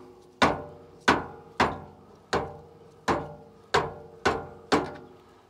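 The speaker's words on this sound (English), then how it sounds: "you can just take these bearing buddies to kind of tap them" A hammer tapping on the bearing buddies of a boat trailer for a 1967 Starcraft Holiday, eight sharp metallic knocks at a steady, even pace, close and clear with short ringing decay.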